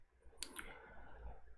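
A single quiet computer mouse click during a Modbus RTU practice session, one crisp tick over a faint background hum.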